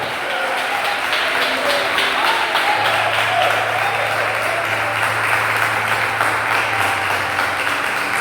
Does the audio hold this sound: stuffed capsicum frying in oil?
no